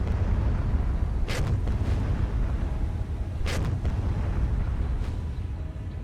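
Torpedoes fire and detonate in the naval video game War on the Sea, with a dense rumbling roar overlaid by a few sharp bursts, loud and continuous with no speech.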